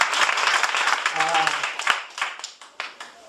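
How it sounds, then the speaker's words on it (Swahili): Church congregation clapping hands during a worship service at Jesus Light of Salvation Ministry in Nayera, Busia, a dense burst of applause that thins out into scattered claps, with voices mixed in. "Pigia Yesu makofi."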